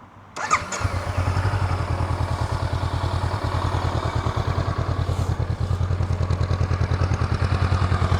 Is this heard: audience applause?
no